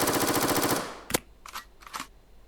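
In the video game Rivals, a rapid burst of submachine gun fire rattles loudly for under a second, followed by a sharp click and two clattering mechanical reload sounds.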